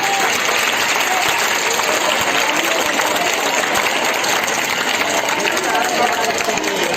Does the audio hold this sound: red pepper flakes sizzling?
no